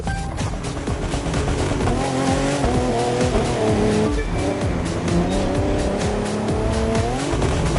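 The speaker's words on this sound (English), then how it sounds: "It's not every day you get to see these kind of cars going full throttle along the LA River." Race cars in The Crew 2 roar at full throttle along the LA River, engines whining loud and close with rising and falling pitch and bursts of tire squeal, steady throughout.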